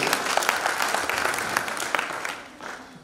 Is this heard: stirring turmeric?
no